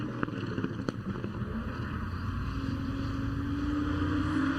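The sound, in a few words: race cars driving on a track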